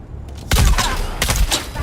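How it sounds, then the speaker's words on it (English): Heavy dart launcher fired in the game Dune Awakening: a couple of sharp, punchy thumping shots with brief rattling tails, close and loud over low background game sound. "Gonna use the heavy dart launcher."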